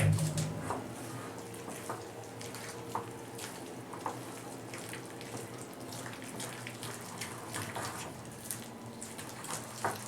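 Water trickles and splashes softly as it is poured and stirred into pitha batter in a bowl, a faint, continuous wet swirl with scattered small clinks.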